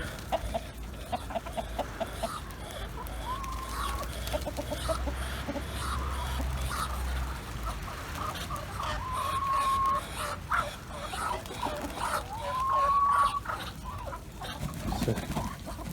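Ducks and a drake squabble, clucking and squawking in a noisy flurry, several birds calling over one another with sharp rising cries, fairly close.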